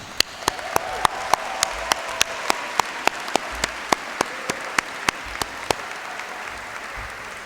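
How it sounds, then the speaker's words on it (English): Graduating seniors at a Longwood University convocation applaud themselves in a dense, sustained crowd clap. A single nearby clapper beats out sharp, evenly spaced claps above the steady roar. "Give yourselves a round of applause"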